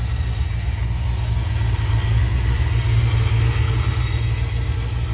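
Restored Lingenfelter engine with a Deltec coil pack running steadily at a smooth, even idle, a close, constant low mechanical drone throughout with no talking.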